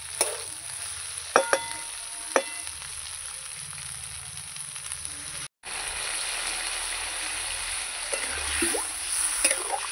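Hot masala for a pomfret fish curry with potato and tomato sizzles steadily in a pan as water is added and stirred in, with a few sharp clinks of a utensil and a brief drop-out midway.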